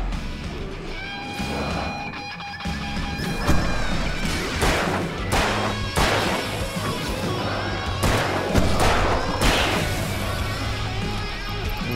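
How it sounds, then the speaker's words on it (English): A flashbang grenade goes off in the video game Alan Wake amid a noisy fight, with several loud crashing blasts and heavy thuds spread over a dense, rumbling background of combat. "Maybe that was a flashbang going off."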